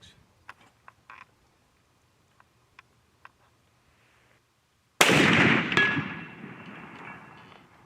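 Custom Hankins smokeless powder muzzleloader fired at a target 185 yards away: after faint scattered ticks and clicks, a single sharp, loud shot bursts out and rings off in a decaying echo over a couple of seconds.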